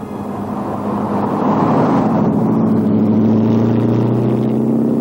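Morgan car with a V8 engine accelerating along a country road in Worcestershire and Herefordshire, a loud, close, rising engine roar that swells and holds steady as it pulls away.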